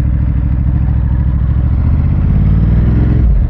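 A Ducati Hypermotard 939 SP being ridden on a town road by a church, its engine droning loud and close with a steady low rumble that shifts slightly near the end.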